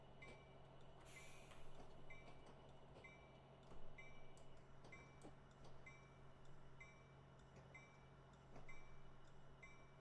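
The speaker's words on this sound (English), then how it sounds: "we're going to let the train just kind of gain momentum in the other direction now" Faint rumble of a freight train gaining momentum at Cajon Pass, with rhythmic clanks and a steady low hum that swells slightly now and then.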